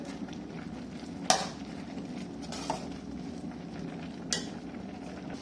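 Carrot halwa being stirred in a pan over a high flame, with a soft continuous sizzle and scraping, broken by a few sharp spoon knocks against the pan, with no voice present.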